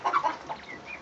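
Quail crowing in a pen while being caught and banded, a few short bright calls near the start followed by fainter, thinner calls trailing off.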